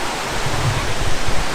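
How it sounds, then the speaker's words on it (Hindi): A waterfall in Fulufjället National Park, Sweden, heard from about 50 metres away as a loud, steady broadband roar of falling water and spray, continuous and dense with no voices. "तकरीबन अभी 50 मीटर दूर है वाटरफॉल"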